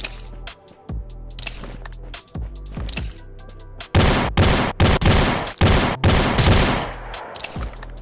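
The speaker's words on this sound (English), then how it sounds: "it was only 2 shots with the SVD" Gunfire in the mobile battle royale game Rules of Survival: a few softer shots early, then a string of loud, sharp reports in quick succession, each cracking out alone at close range.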